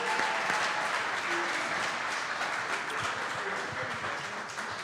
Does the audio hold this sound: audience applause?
yes